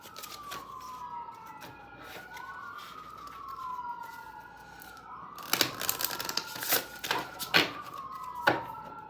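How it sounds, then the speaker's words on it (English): Distant outdoor emergency sirens rise and fall continuously, along with an ice cream truck siren, with crinkling, rustling noises close by in the second half. "You got the sirens going off, and then you got the ice cream siren going off"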